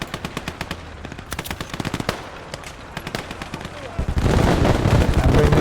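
A T-30 tank's 20mm cannons fire in the Motherland war game, rapid rhythmic bursts of loud close shots, building into dense continuous gunfire with battle noise at the end.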